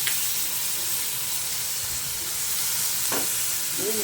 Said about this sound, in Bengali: মশলাটাকে একটুখানি কষিয়ে নেব।